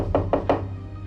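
Three quick, solid knocks on a door, evenly spaced and close, followed by a low hum.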